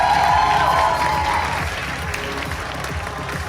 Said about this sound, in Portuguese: Peço os aplausos para a professora Ana Maria Paraíso Dalvi.